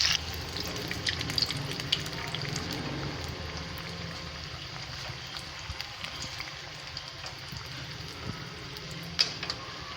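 Chicken rolls frying in a pan over a medium flame, a soft steady sizzle and crackle with occasional small pops, faint and continuous.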